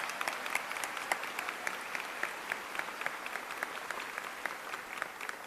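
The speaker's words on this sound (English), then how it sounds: "So let's give them a clap." A convocation crowd applauds the marching band, steady clapping from many hands with individual sharp claps standing out, continuing evenly at moderate loudness throughout.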